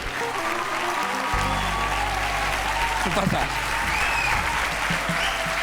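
A live audience at a comedy show claps and cheers steadily as a comedian steps onstage, dense and sustained applause filling the room while a voice speaks briefly over it.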